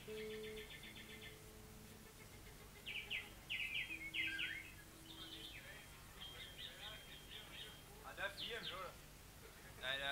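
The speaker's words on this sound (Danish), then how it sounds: "Der er fire minutter med fugle." Recorded birdsong played at a 1981 Montmartre concert: bright chirps and trilled phrases come in bursts, some repeated quickly, over a faint steady background, with no voices on top.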